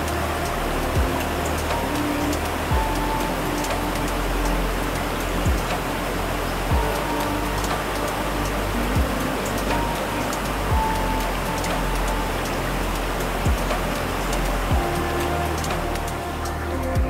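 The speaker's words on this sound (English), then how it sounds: "sound of rushing water as it cascades down the 25-foot drop" Rushing water of 14 Falls in Kenya pours down a 25-foot drop into a pool, a steady, dense broadband roar that holds constant throughout, loud and unbroken.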